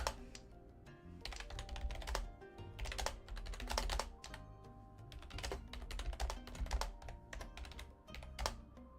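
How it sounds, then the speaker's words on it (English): Computer keyboard typing during an online Riichi Mahjong game: rapid, irregular clusters of close key clicks running steadily throughout, with no talk over it. "I don't know why I'm typing this out."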